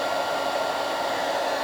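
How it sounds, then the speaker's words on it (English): Stampin' Up! heat gun running steadily as it heats up for embossing powder, a continuous loud blowing whoosh with no talk over it. "Stampin' Up! Heat gun is absolutely great because it's got two settings for the heat"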